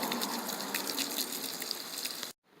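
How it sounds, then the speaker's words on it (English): A garden hose sprays water onto a small carpet outdoors, a steady close hiss and splash that runs continuously and then cuts off abruptly near the end. "First, I'm going to hose it down with water."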